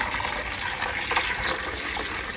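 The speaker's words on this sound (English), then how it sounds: "we're just going to go ahead and pour the water into here" Water pours into the reservoir of a WANAI countertop portable ice maker, a close, steady gushing fill lasting a couple of seconds with no voices.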